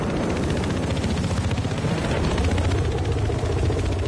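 Helicopter rotor chop from chopper support in a hardcore tournament match of a military shooter game, a steady loud thumping drone filling the whole span with dense combat noise mixed in.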